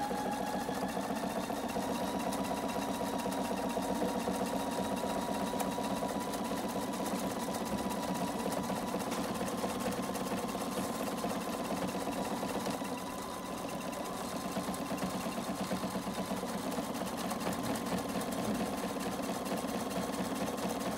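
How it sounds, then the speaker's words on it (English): A sewing machine stitches a buttonhole with a continuous, steady mechanical hum and rapid needle rhythm, close and even throughout, with one brief dip in the middle and no talking. "we just go ahead and make the buttonhole"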